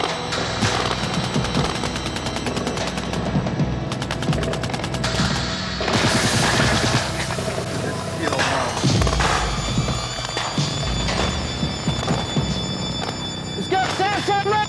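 Marine cold-weather training fire mission in northern Norway: loud, continuous bursts of automatic gunfire with rapid cracks and rattles through the whole stretch, dense and close, with shouting mixed in.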